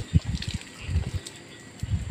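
Water is poured over plant leaves and the growing medium while fertilizing, giving soft intermittent splashes and trickles in short uneven bursts, close by and fairly quiet.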